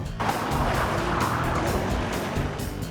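A fast four-seat supercar driven hard on a raceway roars loudly and continuously, its engine note steady with faint hints of tire noise, with no talking.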